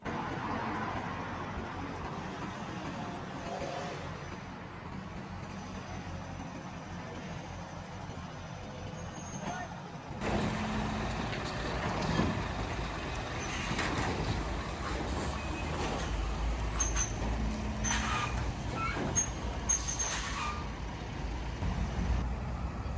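Continuous road traffic with trucks at a busy Derby junction between two main roads and roundabouts, a steady rumble of passing vehicles that grows louder partway through, with faint beeping and no clear voices.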